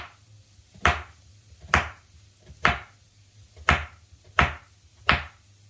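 A knife chops ingredients for a lamb, kumara and spinach coconut curry into small hunks on a board, six crisp, evenly spaced cuts close by over a low background hum.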